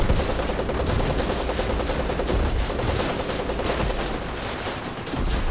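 Sustained rapid gunfire fills a video game battle, dense automatic bursts and overlapping shots continuing loud and steady throughout with no pause.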